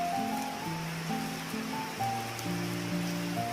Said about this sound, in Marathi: गेल्या 2 तासांपासून असा जोरात पाऊस चालू आहे.